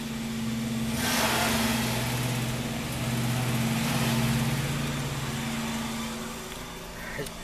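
A steady motor drone from landscaping equipment hums in the background, rising and falling slightly, with no talk over it.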